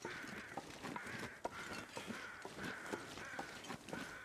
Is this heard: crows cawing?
yes